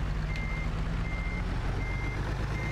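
A truck in American Truck Simulator gives off steady, evenly spaced electronic reversing beeps over a constant low engine rumble, clear and close with no talking.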